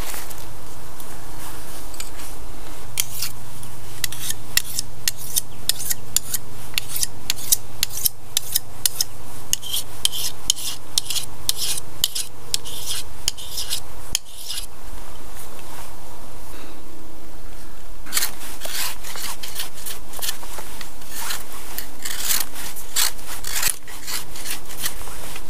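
A hand-forged hook knife carving wood at a bushcraft camp, with rapid, repeated scraping cuts and crisp shaving strokes close by, continuing throughout without talk.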